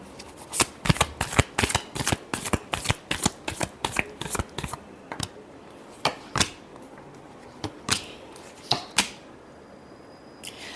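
Tarot cards being shuffled by hand up close: quick bursts of crisp riffling and slapping, dense and rapid at first, then slowing to a few separate flicks, with no speech.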